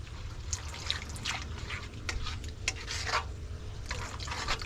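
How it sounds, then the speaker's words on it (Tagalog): Cornstarch mixed with water is poured into a guyabano and sugar mixture, a faint, uneven trickle and drip of liquid with soft splashes, continuous and close, with no talking. "Isunod naman po natin itong ating cornstarch na minix sa tubig."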